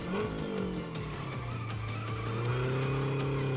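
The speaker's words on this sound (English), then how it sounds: "Oh, I braked too late." A race car in the racing video game Redline Reverie brakes hard, its tires squealing in a long, loud, wavering screech over the engine drone, with rhythmic game sounds ticking steadily behind.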